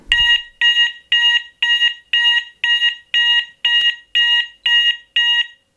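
A loud electronic fire alarm sounder signals a level 1 fire in a steady series of about eleven sharp, evenly spaced high-pitched beeps, close and alone.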